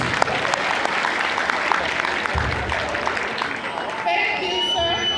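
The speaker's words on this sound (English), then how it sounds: "Please, can you give her a round of applause?" A room of attendees at a Nigerian civil society press event on the naira redesign gives sustained, thick applause for the full five seconds, loud and even, with a faint voice or tonal sound entering toward the end.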